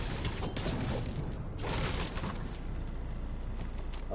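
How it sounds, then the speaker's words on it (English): Gunfire in Fortnite, a dense, continuous crackle of shots and bursts at moderate loudness, with no talk over it. "there's gunfire in here"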